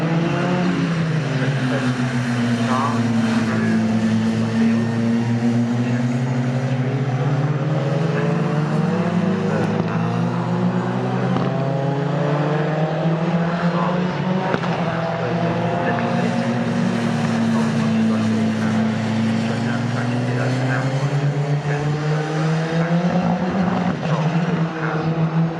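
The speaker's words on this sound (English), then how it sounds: "The remainder of cars come through." Prototype race cars in a Britcar Prototype Cup race at Silverstone circuit roar past one after another. Loud, continuous engine drones swell and bend in pitch as the cars go by, with no talk.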